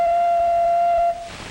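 A single soft, steady ocarina note held for about a second, pure and tonal with faint overtones, then cut off into quiet room hiss.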